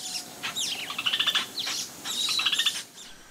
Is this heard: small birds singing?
yes